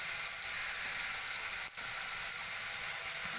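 Chopped garlic, green chillies and onions frying in a pan, a continuous bright sizzle at steady volume with a single short dip partway through.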